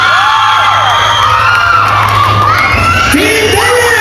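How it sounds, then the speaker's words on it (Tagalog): A mall-show crowd shouts and cheers loudly for Team Barbie, a dense wall of high-pitched screaming and whooping voices that stays intense and continuous throughout. "Okay, palakpakan sigawan for Team Barbie!"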